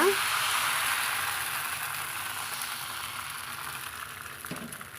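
Appam batter cooks in a swirled appam pan with a steady, hissing sizzle that is loudest at first and fades slowly, heard close up with one brief clink near the end.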